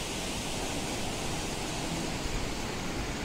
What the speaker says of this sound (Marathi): आणि आपण बघू शकता हा थोसेघरचा धबधबा.